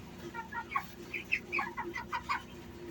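Master Grey chickens cluck repeatedly while feeding on pellet feed, with soft overlapping calls close by over a steady low background hum.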